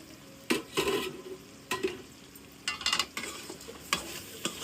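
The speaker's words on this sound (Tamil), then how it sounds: "எண்ணெயில் தான் இந்த கேரட் பீன்ஸ் அவியணும்." Carrots and beans sauté in oil in a pan, with a low steady sizzle under repeated close scrapes and clinks as a utensil stirs the vegetables, with no talk.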